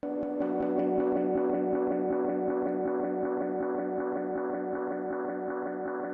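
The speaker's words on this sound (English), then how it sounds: "if I crank up the regen, which is the feedback here" A synth sound with a dub-style delay at high regen feedback, its echoes repeating in a steady rhythm and piling into a dense, ringing wash that keeps feeding back.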